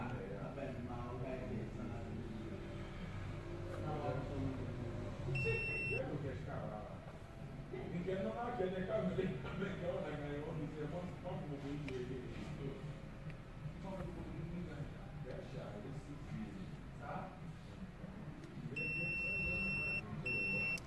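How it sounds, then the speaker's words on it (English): A few short electronic beeps sound twice, briefly, from a diagnostic interface communicating with a 2015 Honda Accord, over steady talking and a low background hum. "anytime it communicates with the interface, then it beeps to get the information"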